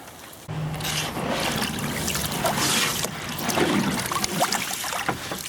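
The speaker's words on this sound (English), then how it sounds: "I usually fill it up till it's about that full, and then I dump out the water and repeat" Water is dumped out of a container of rinsed rock, a steady splashing pour with trickling that runs continuously at close range, with no voices over it.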